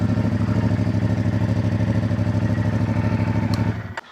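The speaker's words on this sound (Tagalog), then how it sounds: "Pinapasok ang ating motor." A motorcycle engine runs close by at a steady, throbbing idle with a pulsing beat and some mechanical clatter, then cuts off abruptly at the end.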